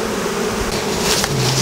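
Honeybees buzz around a beehive in a steady, loud drone with layered overlapping tones, close and continuous, with no voices.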